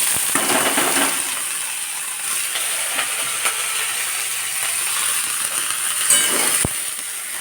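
Potatoes frying in hot oil with nigella seeds in a Bengali home kitchen, giving a steady, continuous sizzling hiss with crackles and small pops all through, close and fairly loud, with no talking.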